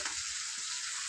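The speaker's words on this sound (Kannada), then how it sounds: "ಈರುಳ್ಳಿ ಟೊಮೊಟೊ ಎಲ್ಲ ಫ್ರೈ ಆಗಿದೆ" Onion and tomato frying in a pan with turmeric and chili powder, a steady bright sizzle filling the whole short moment at low volume, with no voices over it.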